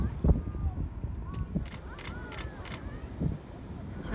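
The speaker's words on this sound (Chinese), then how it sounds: "听着啪啪啪啪啪，是我们家老公在按快门" A camera shutter fires in a quick burst of about four clicks while whales are photographed off the Sydney coast, heard over wind, water and nearby voices.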